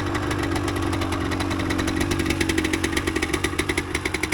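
A 1988 Yamaha DT200 motorcycle engine idles while warming up, running close and loud with a steady rattling beat that grows choppier and more pulsing toward the end.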